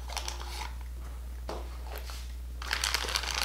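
Opening plastic toy packaging of Disney Animators' Littles figures: crinkly plastic crunching and crackling in bursts, with a sharp snap partway through and a louder rustle toward the end, close up.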